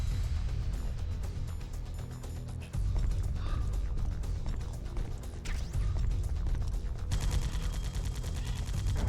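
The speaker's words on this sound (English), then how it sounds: "I'm trying to shoot him." Gunfire in Metal Gear Solid: The Twin Snakes, a dense run of clattering shots and mechanical clicks over a low rumbling game soundtrack, loud and continuous with a brief dip before resuming.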